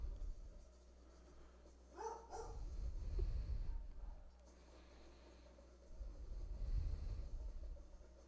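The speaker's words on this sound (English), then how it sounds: "A little dog barking action in my house" A small dog barks indoors, a short burst of yips about two seconds in, followed by rumbling low thumps and room noise at moderate distance.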